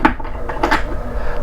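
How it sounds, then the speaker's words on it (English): A cutlery drawer slides open in the moulded galley kitchen of a Fairline Phantom 65 motor yacht, giving a quick close clatter of rattling metal utensils with no talking. "Beautiful cutlery drawer in there."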